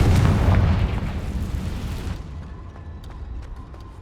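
A Confringo spell explosion in Hogwarts Legacy: a single loud booming blast with a rumbling decay that fades over a couple of seconds, followed by faint ambient game sounds.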